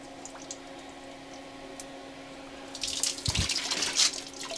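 Water from a rebuilt homestead water system starts flowing, a faint hiss that turns into louder splashing and spattering near the end, close by and with no speech.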